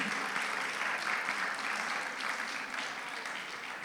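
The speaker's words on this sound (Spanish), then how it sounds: "dale un aplauso al Señor nomás" Congregation applauding during a Sunday church service, a steady wash of many hands clapping together at moderate volume, continuous and fairly even throughout.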